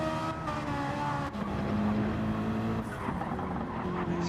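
A Ferrari GT race car in a racing video game at the Nürburgring Nordschleife screams through its gears, loud and close, with a rising engine note, a brief drop at a shift and tire noise underneath.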